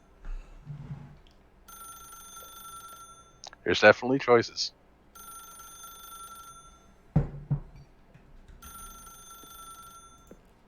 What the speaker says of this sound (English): Pick up the phone or don't pick up the phone, right?